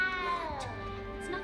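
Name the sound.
cat meowing in the video game Hogwarts Legacy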